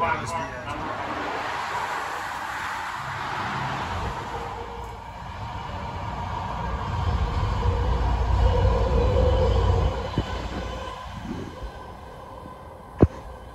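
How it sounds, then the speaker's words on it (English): A train passes near a university campus as a long, rumbling roar that builds and fades over several seconds, ending with a sharp clank, with people talking over it. "Nasty ass train."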